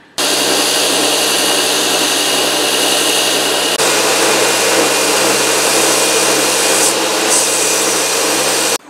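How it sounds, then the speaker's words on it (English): A belt grinder with a big coarse belt flattens knife handles, giving a loud, steady abrasive roar and whine that runs unbroken from start to finish with no talking. "I'm going to go ahead and grind these flat with the top and get that angle in there while I've got this big coarse belt on"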